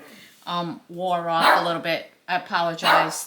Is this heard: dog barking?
yes